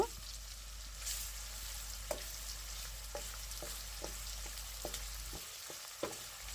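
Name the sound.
chopped onions frying lightly in a pan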